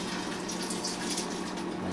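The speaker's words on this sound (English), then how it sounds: "I'm gonna pour some more to wash my chopping knife" Boiling hot water poured over a chopping knife while washing it, a steady close splashing stream running continuously without pause.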